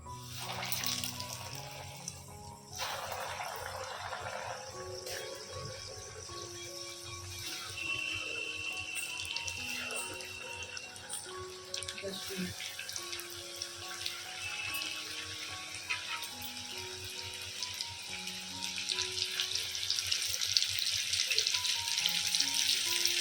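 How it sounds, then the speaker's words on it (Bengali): KFC-style crispy fried chicken pieces go one by one into hot oil, which fills the space with a steady, dense sizzle and crackle. The sound grows a little louder toward the end, and nobody speaks. "এবারে আমি চিকেনগুলোকে ভেজে নেব।"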